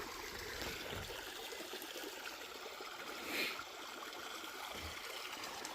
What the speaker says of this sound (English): Nice that the creek's flowing.